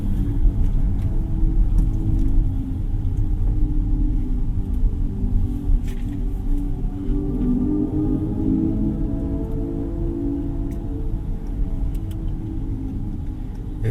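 Hyundai IONIQ 6 GLS electric car driving in pure EV mode, a steady low road rumble and tyre hum throughout with a faint rising electric whine, no voices.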